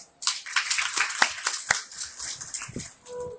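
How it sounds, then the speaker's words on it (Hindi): Audience at a Bhagavat Katha religious gathering bursting into loud applause, a dense wash of many hands clapping that starts abruptly and carries on steadily before thinning toward the end. "एक बार जोरदार ताली।"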